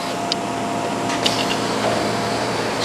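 A steady, even hiss of air leaks past a vacuum suction cup pressed against a surface, with a faint squeak or two. The sound is continuous and close.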